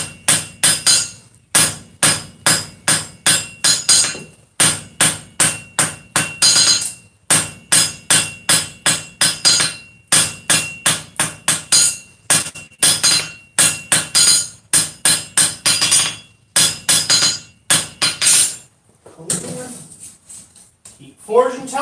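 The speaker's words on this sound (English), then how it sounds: "Keep forging until it's clean." Steady, rapid hammer blows ring out as metal is forged on an anvil, striking in quick bursts with short pauses between series, loud and close, ending in quieter handling noise.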